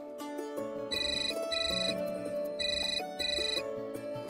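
A phone rings with a melodic electronic ringtone, a bright repeating tune that plays on steadily at moderate volume indoors with no talk over it.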